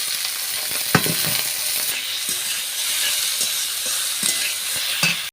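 Potatoes frying in a pan with dried red chillies, a loud, close, continuous sizzle with a few knocks and clatters of a utensil, no speech.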